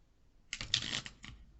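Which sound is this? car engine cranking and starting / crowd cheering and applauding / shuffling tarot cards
shuffling tarot cards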